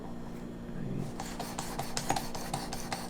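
Broadhead arrow tip being sharpened, a run of light rasping strokes and faint metallic scrapes repeating steadily at close range, with a low hum running underneath.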